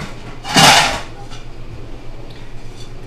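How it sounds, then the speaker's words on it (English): A plate grabbed from among dishes in a messy home kitchen, one sharp ceramic clatter near the start, then faint small knocks and quiet room tone. "grab a plate"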